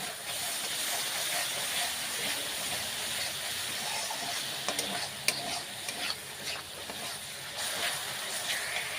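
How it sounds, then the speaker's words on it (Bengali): Tomato for tadka being sautéed and stirred in a pan. A steady soft frying sizzle continues throughout, and occasional spatula clicks and scrapes sit close by. "টমেটো দিয়ে আর একটু ভালো করে কষিয়ে নেব।"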